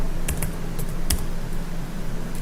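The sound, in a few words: typing code on a computer keyboard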